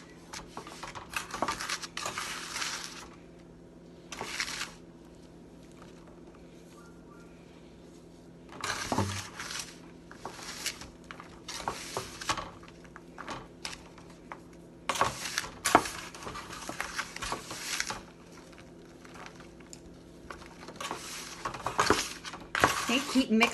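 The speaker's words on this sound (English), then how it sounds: "Just gonna use your hands and mix everything around." Fake snow ingredients being mixed by hand in a bowl, giving intermittent squishing, clinking and scraping bursts in irregular clumps amid quieter gaps, with a voice talking over parts of it.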